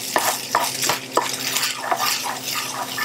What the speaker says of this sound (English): You can hear now it's starting to sizzle and fry.